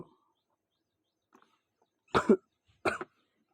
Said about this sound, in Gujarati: થોડીક ઉધરસ પણ થઈ ગઈ છે તોય પણ ચાલ્યા જ કરવું પડે છે।